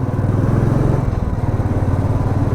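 A motorcycle ridden at around 30 to 40 km/h, its engine a steady low throbbing hum with wind rumble, loud and close for the whole stretch with no change in pace.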